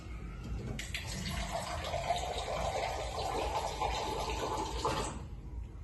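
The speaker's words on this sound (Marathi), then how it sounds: "त्याला शिजायला पाणी घालावं लागेल म्हणून आपण पाणी घालूया." Water pours steadily into a pot of dal for several seconds, a hissing, splashing stream that starts abruptly, stays even, and stops cleanly near the end, with no talking over it.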